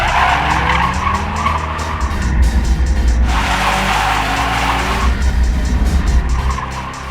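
A drifting car at a Sentul racing event squeals its tires continuously over a loud revving engine, the screech swelling and shifting as it slides, close and intense throughout.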